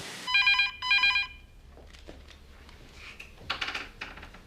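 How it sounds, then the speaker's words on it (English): A telephone bell rings twice in short loud bursts at the start of a soap opera scene, followed by quieter room rustle and faint clatter. "This phone's been ringing all morning."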